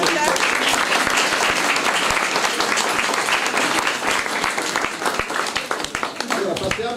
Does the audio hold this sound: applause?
yes